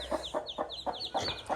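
Hen with her chicks, giving a quick steady series of about seven soft, close clucks at an even rhythm, with faint high chick peeps overlapping the clucking and no talking.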